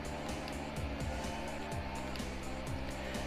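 Hamilton's Formula 1 car in the racing game F1 2017 sweeps past with a loud, steady high-revving engine drone and repeated gear-shift blips, the whine holding close throughout.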